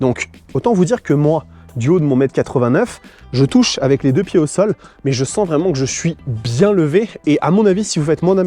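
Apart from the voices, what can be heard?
No everyday noises stand out.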